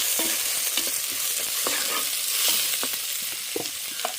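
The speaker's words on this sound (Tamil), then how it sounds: "அதோட ரம்பையும் கருவேப்பிலையும் போட்டு நல்லா காய்க்கணும்." Curry leaves and spices frying in a pan for a country chicken curry, a continuous bright sizzle with scattered stirring scrapes and clicks, close and alone.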